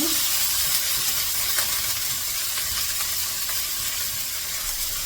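Washed leafy vegetables dropped into a hot pan give a loud, steady hiss of steam and sizzle, close and continuous, with faint stirring underneath.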